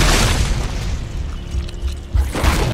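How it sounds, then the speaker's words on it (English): Bomb explosion sound effect: a loud, sustained booming roar fills the whole stretch, with a second swell of rumbling blast near the end and no speech. "I planted a bomb inside of TikTok headquarters."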